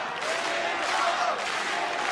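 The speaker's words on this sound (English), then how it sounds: "The fans are absolutely cheering" Fans cheer at a RIZIN mixed martial arts tournament event in 2016, a dense, steady roar of crowd noise with applause mixed in, loud and continuous with no break.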